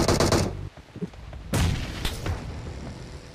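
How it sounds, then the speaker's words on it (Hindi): Gunfire in Battlegrounds Mobile India: a loud burst of shots at the start, then scattered quieter cracks before a second heavy volley of rapid fire that trails into distant shots, with no talking. "फायरिंग हुआ यहाँ से"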